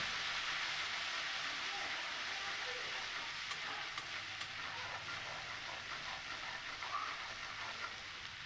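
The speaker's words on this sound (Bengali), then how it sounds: "এবার এই সমস্ত মশলাটাকে আমি খুব ভালো করে একটু কষিয়ে নেব আদার কাঁচা গন্ধ চলে যাওয়া পর্যন্ত" Spice masala with ginger and chili powder being sautéed in a pan for a Bengali potol dorma, a steady close sizzle with faint stirring scrapes and no talking.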